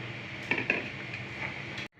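Pumpkin pieces drop into a pot of cooked cowpeas for a curry, giving a couple of close, soft clattering knocks against the metal pot over a low steady background hiss, then cutting off abruptly.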